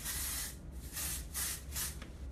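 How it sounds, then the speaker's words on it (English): Way texturizing hairspray is sprayed through hair in several soft, close aerosol bursts, each a breathy hiss separated by short gaps. "I'm just going to spray some of the Way texturizing hairspray throughout, and this will just give the hair some hold"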